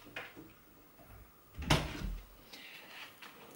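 A living-room door opened in a house to let a cat out, giving one clear thud and rattle in the middle between softer knocks and shuffling, close by, with no speech.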